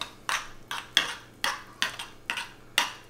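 Spoon swirling sriracha sauce in a bowl, producing about eight regular clinking scrapes against the bowl, close and fairly quiet, with no voices.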